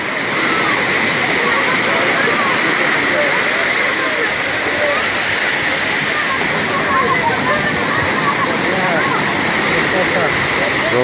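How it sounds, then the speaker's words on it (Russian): Atlantic Ocean waves at Biarritz beach crash and splash in a loud, continuous roar of churning water and surf, close by, with no break throughout. "Вот такой он океан."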